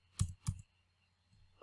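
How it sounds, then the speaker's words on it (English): A few isolated keystrokes on a computer keyboard, two crisp clicks close together, then near silence and a faint tap at the end; quiet and close, with nobody speaking. "I'll type in my name"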